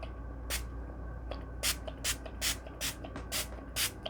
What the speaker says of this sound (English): All right, so let's just do a little spraying.